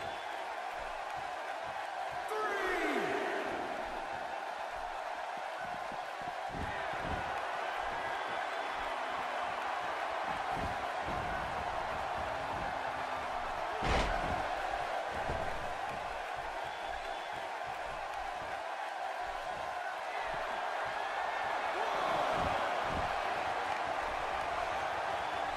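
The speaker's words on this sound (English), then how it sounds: "I don't think I've heard a Toronto crowd this loud" A loud wrestling crowd in Toronto roars steadily at a live event, a dense, sustained wall of cheering with a few sharper swells and one brief sharp bang partway through.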